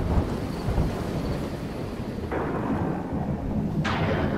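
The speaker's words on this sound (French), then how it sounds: "le vaisseau fut pris dans une violente tempête" A violent storm at sea in a narrated story, with a constant roar of wind and surf and low rumbling thunder, plus sharper gusts or cracks breaking in near 2.3 and 3.8 seconds, with no voices.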